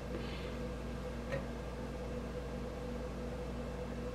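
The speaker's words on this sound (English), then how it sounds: "Then we're going to microwave it 30-second increments." A microwave oven runs while heating fudge mixture in short intervals, giving a steady, even hum with a faint brief tick partway through and no voices.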